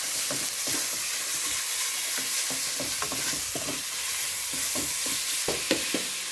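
Minced pork frying and being stirred in a pan for Thai pork rice soup, a busy continuous sizzle broken by repeated scraping stir strokes, close and fairly loud with no talking.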